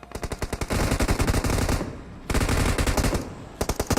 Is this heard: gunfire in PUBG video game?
yes